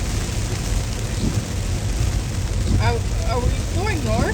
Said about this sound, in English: I think it'll stop raining in like 2 minutes.